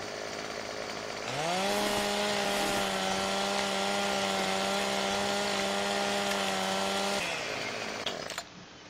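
Chainsaw felling a tree in a farming simulator game: the engine revs up sharply, then holds a loud, steady buzzing drone for several seconds before cutting off, with no voices.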